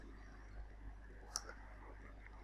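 A single sharp computer mouse click, quiet and close, standing alone over a low steady hum.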